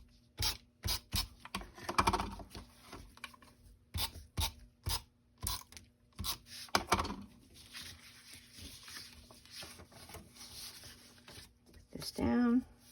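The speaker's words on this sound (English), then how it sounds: "this is the regular tape runner." A paper-crafting tape runner laying adhesive tape, a series of sharp rhythmic clicks and taps followed by a brief rasping pull near the end, close up while a person talks quietly in between.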